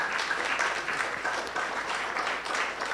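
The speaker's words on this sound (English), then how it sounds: "big round of applause to all our volunteers" Audience applause for volunteers at a New Year's Day celebration, a steady wash of many hands clapping, fairly loud and continuous with no speech over it.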